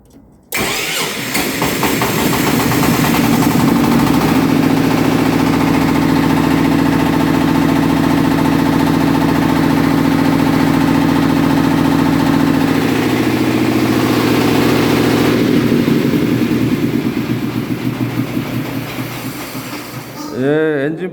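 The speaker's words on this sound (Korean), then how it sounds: "이번에는 엔진 펌프를 수동으로 돌려서 전압이 나오는지, 기동 확인 220이 나오는지 확인해 보도록 하겠습니다" A fire pump engine is started by hand and settles into a steady, loud mid-pitched roar that runs on and holds level for about twenty seconds, then tapers near the end.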